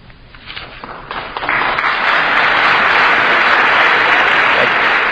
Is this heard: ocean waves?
no